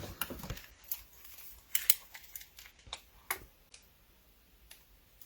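Hand scissors snip fabric in a quilter's sewing room, giving a quiet scattering of crisp irregular clicks and cuts, close and faint, with no talk.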